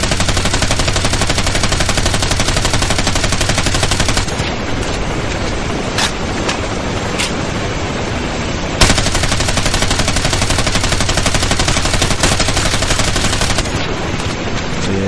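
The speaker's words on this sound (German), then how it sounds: "ich will doch nur noch alle Schüsse abgeben" Video game gunfire in Ghost Recon Advanced Warfighter: dense, loud, continuous machine gun fire rattles throughout, with a brief easing and a few sharper single cracks standing out.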